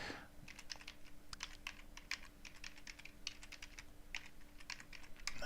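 Fingers tap steadily on a computer keyboard, a fast irregular patter of close clicks with a faint steady hum underneath and no talking.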